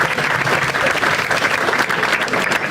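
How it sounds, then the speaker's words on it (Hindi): Loud, dense audience applause fills a standup comedy show, a steady wash of many hands clapping together with no pauses and no voices on top. "एक बार आवेश के लिए ताली बजा।"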